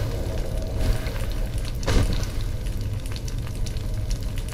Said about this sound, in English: I'm just gonna let that fire burn because I need coal.